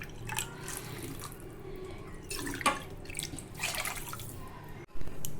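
Water is poured into a cooking pot for veg pulao, giving a nearby splashing trickle with a few louder gushes and drips, quiet overall and without talk.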